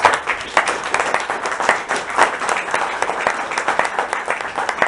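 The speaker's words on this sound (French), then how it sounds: "Je voudrais qu'on l'applaudisse particulièrement." An audience applauding at an association's general assembly, a continuous, fairly close wash of many hands clapping at an even level throughout, with no voices over it.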